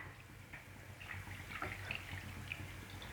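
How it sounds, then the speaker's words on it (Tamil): Roughly a glass of water pours into ginger chicken curry in a pot, a soft continuous splashing and trickling at low level. "இந்த சிக்கன் வேகிற அளவுக்கு நான் கொஞ்சமாக 1 கிளாஸ் அளவு தண்ணி சேர்த்துக்கிறேன்."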